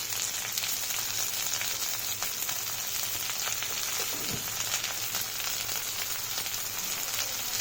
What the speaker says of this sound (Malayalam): അപ്പോൾ നമ്മൾ അരിഞ്ഞു വെച്ചിരുന്ന സവോള ഇട്ട് കൊടുത്തിട്ടുണ്ട്. നല്ലോണം ഒന്ന് വഴണ്ടിടണം.